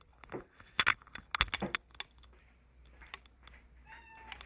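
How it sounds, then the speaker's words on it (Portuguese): A house cat shut inside a bedroom meows a few times, fairly close and moderately loud, mixed with sharp clinks and light rattles, and a faint whine near the end. "Tem um gato aqui de casa, nosso gato que ele tá preso aqui no meu quarto."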